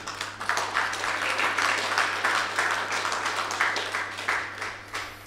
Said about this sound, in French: Applaudir madame, hein, vraiment.